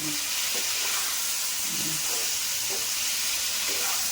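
Fried potatoes go into a pan of curry base with chilies for a Bengali koi fish curry, a steady broadband sizzle hissing throughout with a few soft stirring scrapes, close and even, no talking.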